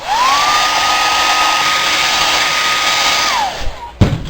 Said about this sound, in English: Blow dry him.